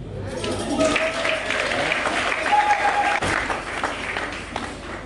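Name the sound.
audience applauding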